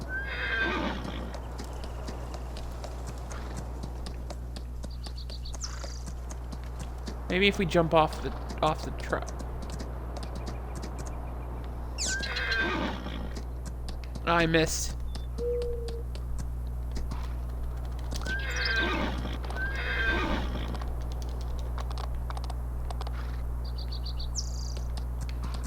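On a farm, a horse whinnies in several loud bursts spread across the stretch, with hooves clopping around it and faint birds and insects behind; a person talks intermittently.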